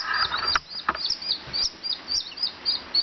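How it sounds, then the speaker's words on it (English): Baby chicks peep steadily under a red heat lamp in an off-grid solar camper, soft high chirps repeating in quick bursts, close and fairly quiet, with no voices. "That's a happier peeping noise from the babies."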